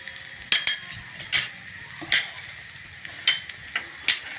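A spoon stirs dry fruits roasting in a pan for panjiri, giving about eight sharp scraping clinks at an uneven pace over a faint, steady background hiss.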